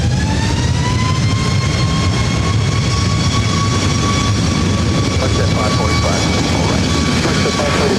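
Jet airliner on runway 24 right at Los Angeles International Airport, a loud, sustained engine roar with a rising whine, heard from nearby, with radio chatter faintly beneath.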